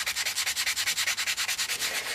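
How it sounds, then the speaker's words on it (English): P180 sandpaper rubs steadily back and forth over spackling on an antique compo doll's head, making a fast, even rasping rhythm of about eight strokes per second, close up and alone. "and just start sanding away. I'm not sanding the compo, I'm just sanding the spackling."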